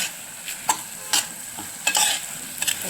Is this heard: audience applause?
no